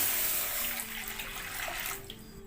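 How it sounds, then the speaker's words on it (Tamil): Water is poured steadily into a kadai set on the stove for making green gram balls, a continuous close splashing hiss lasting the whole stretch with no voices over it. "அடுத்து கொஞ்சம் தண்ணி ஊற்றுக்கோங்க"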